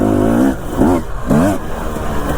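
A dirt bike engine fitted with a silencer revs in three rising and falling bursts, loud and close, with a muffled throaty tone settling to idle between pulls.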